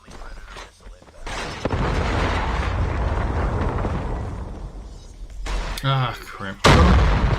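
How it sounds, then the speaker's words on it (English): A Predator missile strike in a multiplayer shooter game lands as a loud, sustained rumbling explosion that rolls on for several seconds, followed by a second sharp blast near the end, with brief talk breaking in between. "Friendly Predator missile inbound"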